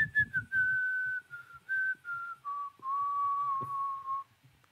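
A person whistles a slow, wavering melody, a few sustained notes with short gaps between them, close and fairly soft, over light background rustle.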